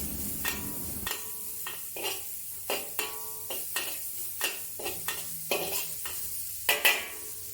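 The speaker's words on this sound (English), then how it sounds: "Stir fry the long bean until fragrant and then remove." Rapid metal scraping and clinking of a spatula in a wok over a steady sizzle, stir-frying long beans in irregular bursts, close and fairly loud.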